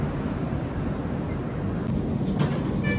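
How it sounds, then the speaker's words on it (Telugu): A moving passenger train leaving Annavaram, a steady broadband rumble of wheels and carriage noise filling the whole stretch at an even, fairly loud level with no voices. "అన్నవరం నుంచి మన ట్రైన్ అయితే మూవ్ అయిపోయింది"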